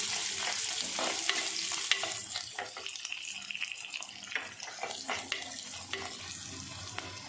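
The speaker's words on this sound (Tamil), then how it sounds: "அடுத்து ஒரு கப் வெங்காயம் இதை நல்லா போட்டு நல்லா ரோஸ்ட் பண்ணிக்கலாம்" A cup of onions roasting and sizzling in a pan for a mushroom dish, a constant close frying hiss with scattered stirring scrapes and clicks throughout, no speech.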